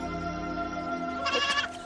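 A goat gives one short, fairly close bleat near the end, after a soft, steady humming background with no talking.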